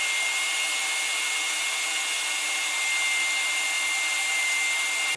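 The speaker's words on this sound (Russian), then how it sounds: "После небольшой прочистки и продува фильтра непосредственно самого пылесоса, он начал работать вообще просто как ненормальный и очень мощный." A shop vacuum fitted with a plastic-barrel cyclone draws up sawdust near a lathe in a workshop, giving a steady, loud, unbroken whooshing roar that runs the whole time with no voices.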